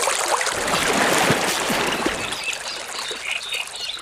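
Water splashing and trickling as someone wades across a river in a radio drama, a steady broadband wash of pouring and sloshing with a few sharper splashes, fairly close and with no talk.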